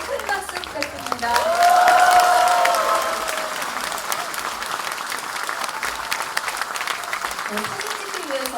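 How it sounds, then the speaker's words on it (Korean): An audience at a political party talk concert in Bupyeong, Incheon, applauds guests on stage. The clapping swells loudly near the start, then settles into a long, sustained patter, with voices and a faint tonal ring mixed in. "무대 위에 올라오신 여군 인사들께 큰 박수 부탁드립니다"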